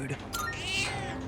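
A hungry, weak-looking cat in the video game Persona 3 Reload gives a single drawn-out, wavering meow over a low background hum, close and fairly loud.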